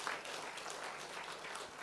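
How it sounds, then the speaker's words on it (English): Brief, steady applause fills a product presentation hall, a dense wash of many hands clapping at moderate distance with no pauses. "give Atomy another round of applause"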